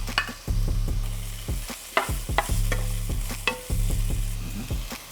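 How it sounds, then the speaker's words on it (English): Minced garlic and mushrooms sizzle in a frying pan, a steady hiss of frying broken by repeated sharp scrapes and clatters of stirring, close and fairly quiet, with no voices. "Added in about half a teaspoon of fresh garlic, minced garlic. And now go in the mushrooms."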